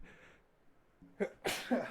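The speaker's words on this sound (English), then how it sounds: "I'm trying to sneeze." A breathy inhale builds to a short, sharp sneeze-like burst, followed by a second quick exhale, close up.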